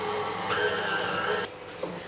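Stand mixer kneading bread dough on low speed, a steady whirring motor hum with a faint tonal whine, close and fairly quiet, easing lower near the end.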